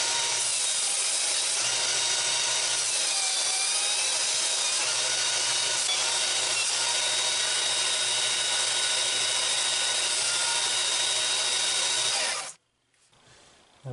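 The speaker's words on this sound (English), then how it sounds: "Now, this is a sanding disc on a angle grinder." An angle grinder fitted with a thick sandpaper sanding disc grinds steadily against a throwing knife, a loud continuous whine with rasping texture, then cuts off abruptly near the end.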